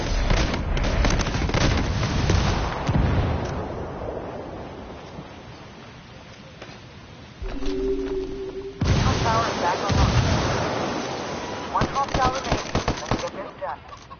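Frag grenade blast and automatic gunfire in the Ghost Recon Wildlands video game, in a 4v4 Ghost War match: sharp bursts of shots open the stretch, a quieter lull follows, then heavy rattling fire and booms return, with voices talking underneath.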